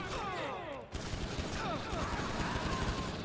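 Rapid bursts of video game gunfire, loud and close, with overlapping shots and a rattling fusillade, plus game effects and a brief break near the one-second mark.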